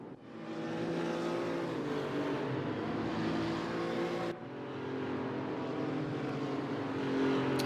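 Porsche 911 Carrera Cup (964) race cars lapping Laguna Seca in a racing video game, a dense, loud, continuous engine roar from several cars with rising revs and one abrupt cut before the pack noise resumes.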